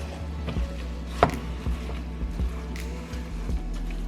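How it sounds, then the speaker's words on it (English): Ground beef broken up in a pan for lasagna, soft irregular taps and scrapes of a utensil against the pan bottom with faint squishing of the meat, quiet and close over a low steady hum. "So now we're going to break up our ground beef."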